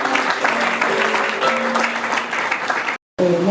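An audience claps steadily for a few seconds at an event, the sound dense and fairly loud before cutting off abruptly and briefly resuming.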